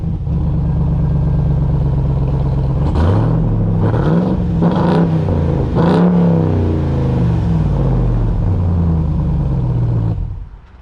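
A RAM 1500 TRX pickup with a 6.2-liter supercharged Hellcat V8 accelerates hard, its loud engine roar climbing through several gear shifts with rising and falling pitch sweeps, close and continuous throughout.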